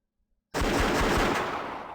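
Rapid burst of video game gunfire from Xiao Xiao, a reaction-based shooter, erupting suddenly after silence as a loud, dense volley of closely spaced shots that rings on to the end.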